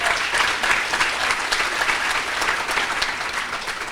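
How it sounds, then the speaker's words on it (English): Audience applause for Dexter at a farmer-neighbor dinner, a steady round of clapping from a room full of people, sustained and even throughout with no voices over it. "let's give a round of applause for Dexter"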